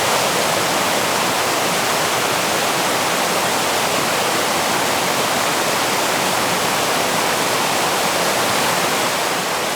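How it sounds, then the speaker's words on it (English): Steady broadband rush of water from waves breaking along a snowy lake shore on a campus, continuous and fairly loud with no pauses, heard alone without any voices. "The continuous rush of waves drowned out my thoughts."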